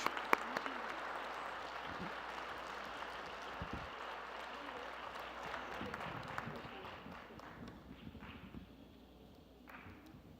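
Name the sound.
audience applause for speaker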